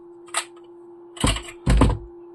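Kydex knife sheath snapping and clicking as a Polkhaim-style knife is drawn and reseated, a light tick followed by two sharp, close plastic clunks over a steady hum.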